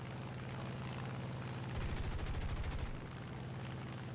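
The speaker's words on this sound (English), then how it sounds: "Those cannons ripped me apart there." Aircraft cannons fire in War Thunder, a rapid, loud burst of about a second running over steady engine drone and then cutting off.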